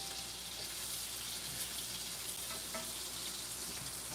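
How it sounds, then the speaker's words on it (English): Meat searing in a hot pan, a steady loud broadband sizzle and crackle throughout, close up with no talk. "See, that's a good sear."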